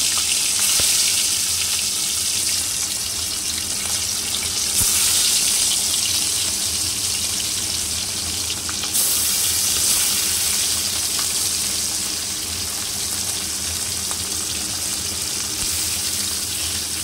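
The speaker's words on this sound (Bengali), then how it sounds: "এরপর মাছগুলো এক এক করে আমি তেলের মধ্যে দিয়ে দিচ্ছি।" Pieces of bata fish sizzle in hot oil one after another, after bay leaf was fried in the same oil. A dense, steady hiss fills the whole stretch close by, with no talking over it.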